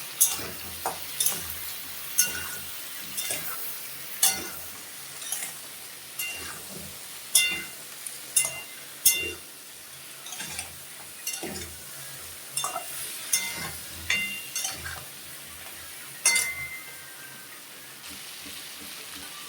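Crab curry with pumpkin and potato cooking down in a pan with turmeric and cumin, a low sizzle broken by regular sharp clacks and scrapes of a spoon against the pan, close and unhurried.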